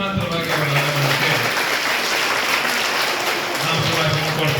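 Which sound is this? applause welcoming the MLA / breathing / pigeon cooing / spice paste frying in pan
applause welcoming the MLA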